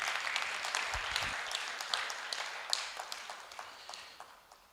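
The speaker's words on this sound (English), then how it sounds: "I think the Chairman deserves another round of applause" An audience at a law week town hall meeting gives a round of applause, the clapping thinner and more scattered with distinct individual claps and a couple of low thumps, gradually fading out.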